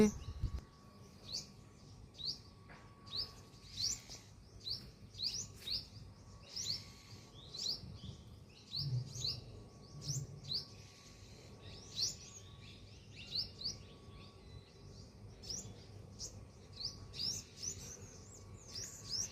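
Red-whiskered bulbuls chirp and call repeatedly while feeding outdoors, bright overlapping tweets coming in quick bursts throughout, with a faint steady hum and low rumble in the background.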